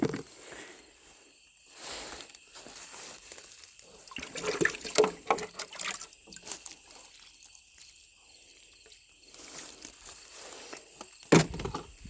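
Water poured from a container into a garden planter, gushing and splashing in several separate bursts with quiet pauses between, close and moderately loud.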